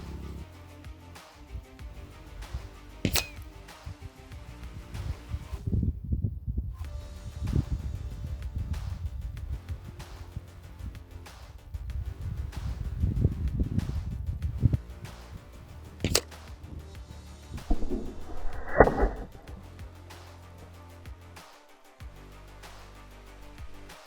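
An air rifle fires a 40 grain slug outdoors at a 100 m range, giving one sharp, loud crack that stands out against steady background noise, with no talking.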